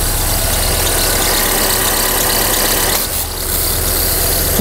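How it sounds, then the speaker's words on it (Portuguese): A new car's engine at about 20,000 km idles with a noisy accessory belt, a steady loud mechanical whir and rumble running throughout with a slight dip near the end. "a correia de acessórios está com barulho, apesar de um carro novo, com apenas 20 mil quilômetros"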